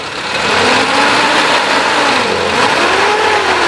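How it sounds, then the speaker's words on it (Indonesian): A 2001 Suzuki Carry Futura Realvan engine revving up from idle, a loud close mid-pitched drone that climbs and falls in pitch over several seconds, alone without talk. "dengerin suara mesinnya, kondisinya seperti ini. Geber, coba geber."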